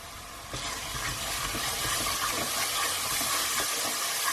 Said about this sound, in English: We're just going to cook these spices till we see the oil release again